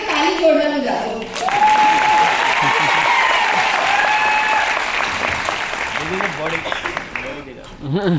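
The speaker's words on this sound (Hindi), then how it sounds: "ये तो ताली जोरदार हो जाते हो।" Loud applause from a crowd at a business seminar swells into a thick, sustained roar of clapping that fades slightly, with a voice speaking at the start and again as it ends.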